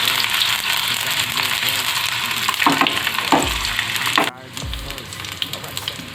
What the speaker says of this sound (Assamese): পটলখিনি ভাজি ল'ম ভালকৈ